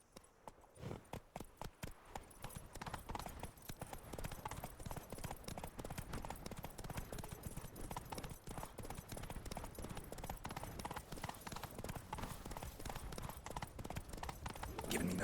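Hooves clip-clop in a steady, fast rhythm as a horse gallops in The Witcher 3: Blood and Wine, loud and continuous across the whole stretch with no talk over it.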